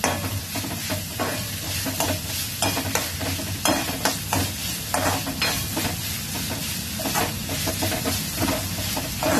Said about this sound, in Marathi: थोडा परतून घ्यायचा व्यवस्थित.